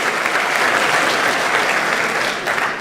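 Dense, continuous clapping from an audience at a school underclass honors ceremony, even and sustained from start to finish with no voices standing out.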